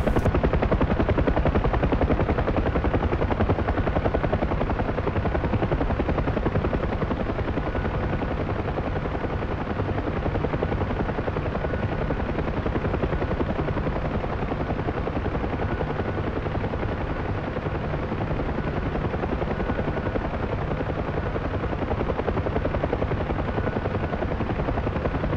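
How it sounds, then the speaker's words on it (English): Transport helicopter in a video game, on final approach to a tight landing zone in strong winds, its rotor and turbine drone loud, steady and close for the whole stretch with no talking. "Now I'm going to leave you with that final approach and the helicopter shining down."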